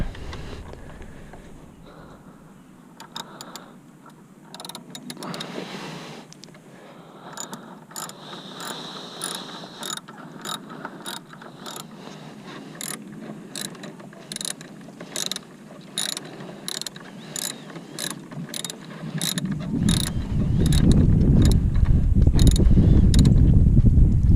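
Ratchet backing out a long bolt during an intake install on a Veloster N, a steady run of crisp pawl clicks with a rising, louder rumble of handling near the end.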